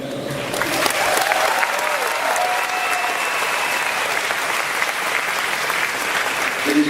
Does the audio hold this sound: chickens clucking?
no